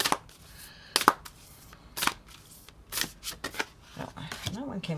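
Tarot cards shuffled vigorously by hand, a run of sharp riffling bursts and flicks close up, with a voice speaking between them.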